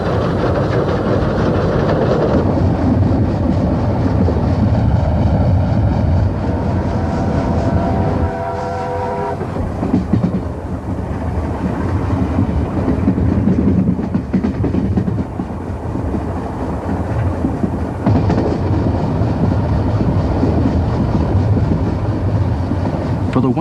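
Steam locomotive 3801 hauls a train through countryside in the Avon Valley, a loud, continuous rumble and rattle of moving rail cars with a brief whistle-like tone, running steadily for the whole stretch.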